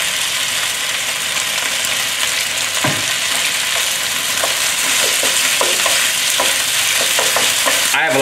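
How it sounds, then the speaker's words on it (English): Ginger and garlic fry in a restaurant-style pan with a steady, loud sizzle throughout, broken by scattered stirring clatter and scrapes, with a sharp metallic knock at the very end. "Here, I'm going to add a lot of ginger and garlic."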